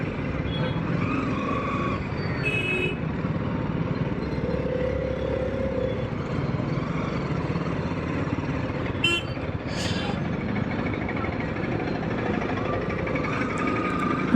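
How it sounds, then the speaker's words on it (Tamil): Steady road traffic on the route to Nandi Hills near Bangalore, a continuous low rumble of passing engines with a brief high horn-like toot partway through, moderately loud throughout. "traffic guys"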